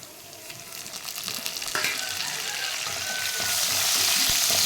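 Curry leaves and onion crackle and sizzle in hot oil in a pan while making kathirikai thooku, with a steady bright frying hiss that swells toward the end.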